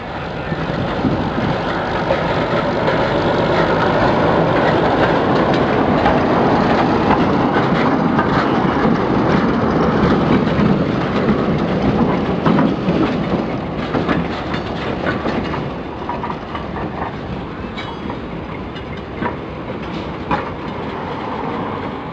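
An excursion train on New Zealand's Waitara branch line rumbles past close by, loud and continuous, with rhythmic clickety-clack of wheels over rail joints that eases slightly toward the end.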